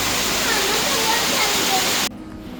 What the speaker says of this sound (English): as soon as I head out, the rain starts pouring down